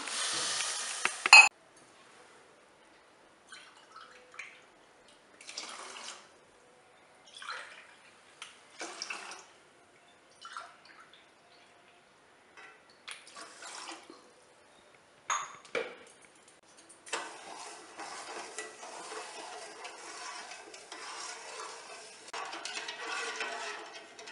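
Water is poured onto sugar in a pan for syrup, with faint clinks and scrapes of a utensil against the pan coming in separated bursts, then a longer stretch of splashing and stirring.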